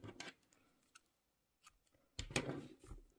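Scissors snip through crochet yarn for a frilled crochet bag, with a few close, crisp cuts and a brief pause between them, heard alone and up close.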